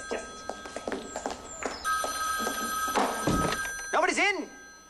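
A telephone bell rings in sustained bursts amid indoor talk, loud and close, with clattering noises between the rings.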